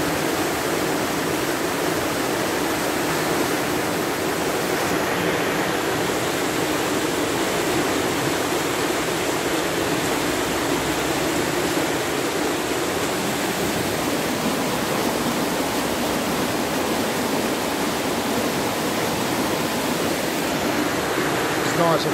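A swollen river, running high and raging, rushes under a bridge. It makes a loud, steady, broadband roar of churning water that stays constant throughout, with no other sounds standing out.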